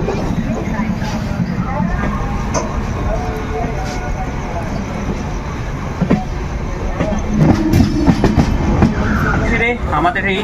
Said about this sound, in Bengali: একদম ট্রেন ছেড়ে দিচ্ছে